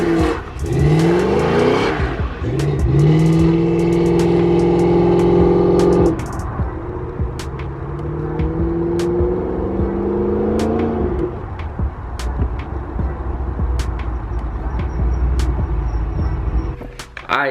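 A Chevrolet El Camino with a carburetor is driven hard, its engine loud and close as it revs up and shifts repeatedly over a steady roar of road and tire noise.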